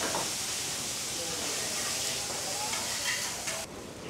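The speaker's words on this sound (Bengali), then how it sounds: "শুরু হয়ে গেছে আমাদের মাছ ভাজা।" Hilsa fish frying in a restaurant kitchen at Mawa gives off a steady, dense hiss of sizzling oil that continues evenly and then eases slightly near the end.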